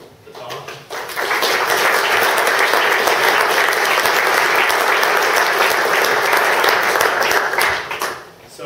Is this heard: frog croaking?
no